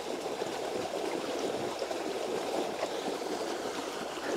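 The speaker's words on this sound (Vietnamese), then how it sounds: "Cái này nó sẽ chảy ra ngoài cái suối to ngoài kia." A small stream branching through rice fields flows steadily, giving an even, soft rushing and gurgling of water that stays moderately quiet and unbroken, with no voices.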